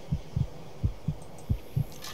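Low-health heartbeat effect in a video game on Legendary survival difficulty: six deep, evenly spaced thumps, some doubled, pulsing steadily over a quiet background.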